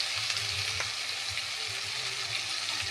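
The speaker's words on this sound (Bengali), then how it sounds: "এটাকে এর সাথে কষিয়ে নেবো কিছুক্ষণ" Ginger and garlic paste sautés in a hot pan with oil, a steady close sizzle and crackle running the whole time with no voices, while a fish curry is being made.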